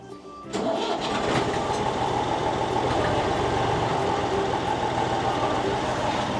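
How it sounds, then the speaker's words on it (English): A tractor engine starts with a brief crank and catches, then settles into a steady, loud mechanical running drone that continues at close range outdoors. "Is that an engine?"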